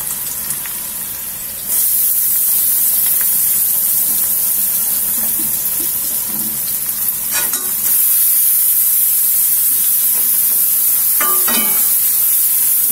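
Chopped garlic and ginger sizzle steadily in hot oil in a pan for fish curry, a loud continuous frying hiss that grows louder partway through, with occasional clinks and stirring scrapes.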